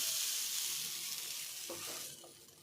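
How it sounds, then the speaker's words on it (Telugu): Dosa batter sizzles on a hot griddle pan with a steady, close hiss that eases slightly toward the end, and a few faint knocks sound near the close. "అట్లు వేస్తున్నాను. వేడి అట్లు పెనం మీద అట్లు పోసాను."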